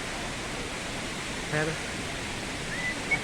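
Strong waterfall at Cachoeira dos Macacos in Granja, Ceará, heard as a steady, dense rush of falling water filling the scene, with a brief voice murmuring once underneath.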